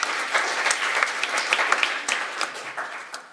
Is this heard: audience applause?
yes